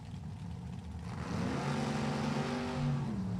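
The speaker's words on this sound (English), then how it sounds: "E1 model Chevrolet Camaro, 572 cubic inch big block for Bruce Broker." Engine of a Chevrolet Camaro drag race car with a 572 cubic inch big block, a steady rising drone that grows louder and holds from about the midpoint, with no voices over it.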